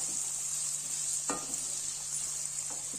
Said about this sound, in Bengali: এগুলোকে কিছুক্ষণ হালকা করে ভেজে নেবেন।